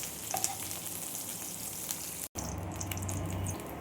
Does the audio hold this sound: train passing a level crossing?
no